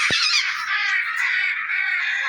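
A Major Mitchell's cockatoo gives a harsh, raspy, drawn-out screech, loud and close, lasting about two seconds.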